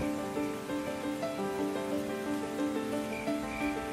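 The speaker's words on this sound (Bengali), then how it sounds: "হঠাৎ করে বৃষ্টিও শুরু হয়ে গেল।" Rain falls steadily at night in a small hill village, a soft continuous patter heard as a sound effect with a faint tonal hum underneath and no voices.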